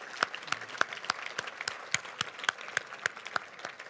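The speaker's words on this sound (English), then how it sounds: "But let's have another round of applause for President Adesina." An audience at a luncheon address applauds the speaker, with distinct individual claps that are moderately sparse and fairly close, continuing steadily without talk.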